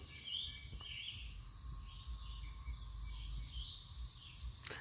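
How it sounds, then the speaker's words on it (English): Faint, distant bird calls chirp over a steady high insect drone and low rumble at a campsite, with no voices nearby. "Just hearing birds."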